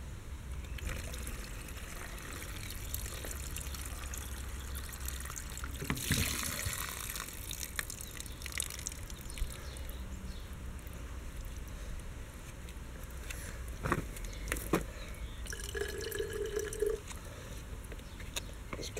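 Water trickling from a soft flask through a portable water filter outdoors, a steady thin dribble and faint hiss continuing for nearly twenty seconds, with small handling clicks and a brief louder splash partway through.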